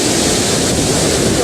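Sea waves on the coast at Gampung Ladong, Aceh Besar, where a damaged boat carrying Rohingya refugees lies stranded; a loud, continuous broadband surf wash, steady and close, with no talk.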